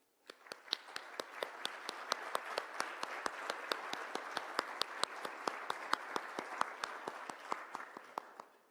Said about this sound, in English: Let us give a big applause to them